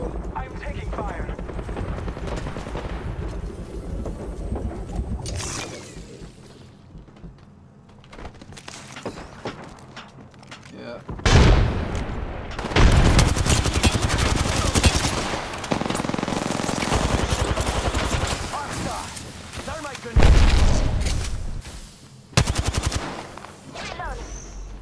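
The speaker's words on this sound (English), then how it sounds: "I'm taking fire." Bursts of rapid automatic gunfire in the Apex Legends battle royale shooter, loud repeated volleys after a quieter stretch, with the player under fire and a voice talking over parts of the firefight.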